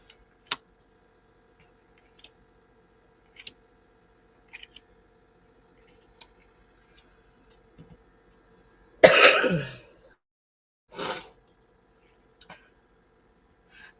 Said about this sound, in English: I'm not wanting to cough in y'all's ears.